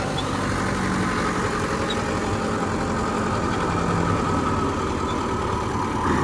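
A tractor engine drives a rotavator under heavy load, a loud, steady low rumbling drone that holds throughout with no talk over it.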